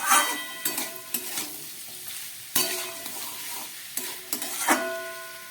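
Green jackfruit curry (echorer dalna) being stir-fried with a little sugar added, a spoon scraping and stirring in bursts over a steady sizzle, close and fairly loud with no voices.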